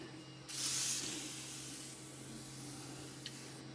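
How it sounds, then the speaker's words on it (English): A burst of WD-40 aerosol spray hisses loudly for about half a second, followed by a softer, lingering hiss in a quiet room. "now I spray it with WD-40"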